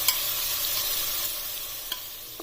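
Marinated chicken frying in hot oil in a pan, a dense, loud, steady sizzle with a couple of brief ladle clicks, heard close and without any talking.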